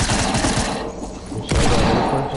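Pistol and other gunfire in a shooting video game, loud and dense, with shots in rapid overlapping bursts, a brief dip in the middle, then a renewed volley.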